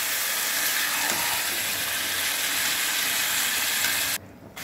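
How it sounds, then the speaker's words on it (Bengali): Masala frying in a pan sizzles steadily and loudly, a continuous close hiss with faint stirring clicks, then cuts off abruptly near the end as water goes in. "এবার আমি জল দিচ্ছি।"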